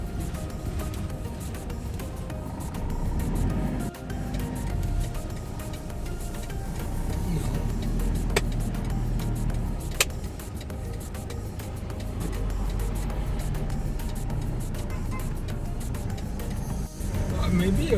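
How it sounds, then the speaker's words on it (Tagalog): A truck passes on a road by a sugarcane area, heard as a continuous low engine rumble under ongoing talk throughout, with a few faint clicks and knocks. "Maybe a truck's passing there to pick up the sugarcane"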